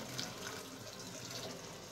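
Jaggery water is poured through a strainer into a bowl, giving a continuous soft trickling splash that runs steadily from start to end without a break.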